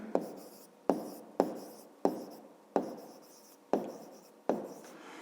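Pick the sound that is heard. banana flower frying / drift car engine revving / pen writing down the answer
pen writing down the answer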